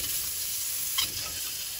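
Eggs hit a wok of hot oil with a pinch of turmeric and fry with a steady, soft sizzle throughout, with one brief clink near the middle and no voices.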